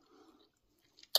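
Crunchy pickle being bitten and chewed during a fast-food dinner tasting, a couple of quiet mouth sounds followed by one sharp, close crunch near the end.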